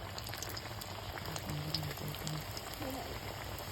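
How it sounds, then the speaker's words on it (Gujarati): Samosas frying in hot oil make a soft, constant bubbling sizzle with scattered crackles, faint and close, and a voice murmurs briefly in the middle. "તો તેલ મસ્ત મજાનું ગરમ થઈ ગયું છે ને હવે છે ને આપણે સમોસા તળવાનું સ્ટાર્ટ કરી દઈએ."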